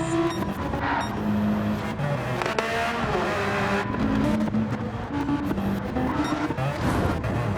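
Several GT3 race cars fighting in close quarters on a wet Nürburgring 24-hour layout in a racing game, engines droning and shifting pitch with revs, tires hissing, steady and loud throughout.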